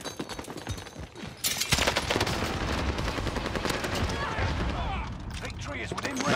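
M4A1 SMG gunfire in a video game, with rapid automatic bursts that run nearly continuously at close range after a short quieter opening, and a voice talking over it.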